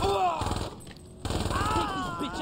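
Rapid AK assault rifle fire in the Saints Row video game, a loud burst of repeated shots that breaks off for a moment and then resumes, with a voice talking over the gunfire.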